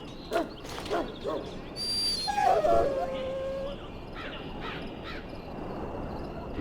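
A dog in the Dragon Age: Origins game whimpers and gives a few thin, high howling cries, moderately close, over faint background ambience and no talking.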